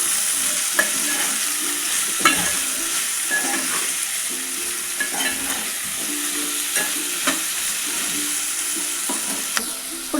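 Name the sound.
vegetables with salt being stirred in a pan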